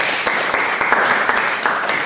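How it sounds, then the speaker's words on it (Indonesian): A classroom audience applauds during a chemistry lecture on volumetric titration at a metal industry polytechnic: dense, steady clapping from a small group, fairly loud and close, with scattered sharper claps throughout. "tepuk tangan"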